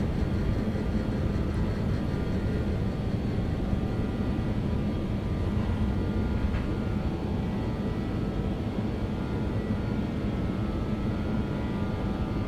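A BAe 146 airliner takes off in the X-Plane 11 flight simulator in bad, windy weather, its four engines producing a loud, steady roar and rumble with a faint whine that holds for the entire stretch, no voices.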